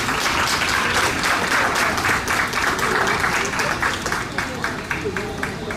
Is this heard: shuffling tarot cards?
no